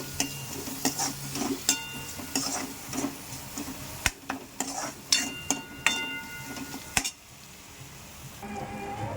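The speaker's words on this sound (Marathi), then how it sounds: "चटणी पावडर, मीठ, हळद याला चांगलं हलवून घ्या." Chutney powder, salt and turmeric stirred into a pan with a spoon, sharp scraping knocks at irregular intervals over a soft sizzle, close by, no speech.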